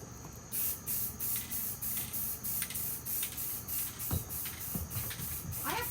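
Repeated bursts of aerosol spray paint put a white base coat on cups, each hiss lasting about half a second with short gaps, close and steady, with a few light knocks of handling in between.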